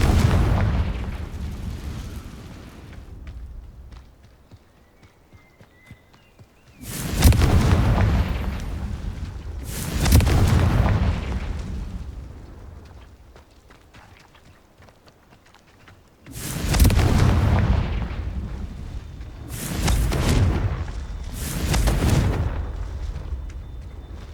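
Confringo blasting spells explode in the video game Hogwarts Legacy, a series of loud booming blasts in clusters, each with a rumbling decay, separated by quieter stretches, with no talk.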